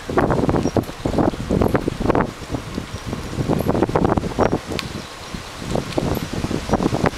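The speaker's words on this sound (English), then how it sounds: "When the wind's blowing like it is right now" Wind gusts through tree branches by a river trail ridden by bike, a loud, continuous rustling that swells and eases in uneven surges with no one speaking.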